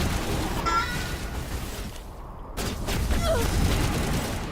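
Pistol fire in the Mass Effect video game, a few sharp bursts and pops set against a constant wash of game ambience and music, with a short drop-out partway through.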